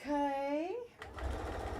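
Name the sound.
sewing machine stitching fabric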